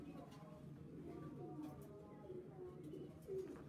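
A racing pigeon named Teddy, number 13, with an injured neck, gives faint, low repeated coos under people talking nearby.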